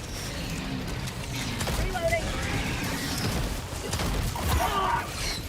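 A weapon magazine reload in Helldivers 2 gives a quick series of mechanical clicks and ratcheting clacks over a busy, noisy game soundscape, with a voice talking over it.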